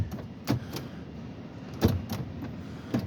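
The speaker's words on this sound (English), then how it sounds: "Power locks." Power door locks on a 1991-era Pontiac Trans Am actuate, giving several short, sharp mechanical clunks spaced apart over a quiet interior background, close and moderately loud.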